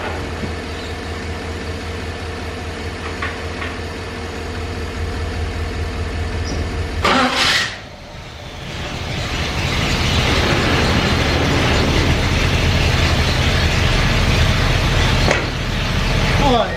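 A Chevrolet C10 truck engine, freshly fitted with new plugs and wires, idles with a low steady rumble, briefly cuts out, then is restarted and settles into a loud, smooth, even idle.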